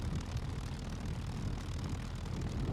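An airplane engine in the survival video game SCUM gives a loud, continuous low roar. It stays steady and dense for the whole stretch, with no speech.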